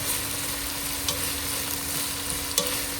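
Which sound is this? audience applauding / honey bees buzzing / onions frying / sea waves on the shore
onions frying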